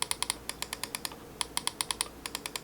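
Quick, light clicks from the buttons of an ASUS ROG Keris Wireless gaming mouse, about two dozen crisp taps in rapid bursts with brief pauses, close and quiet with no talking.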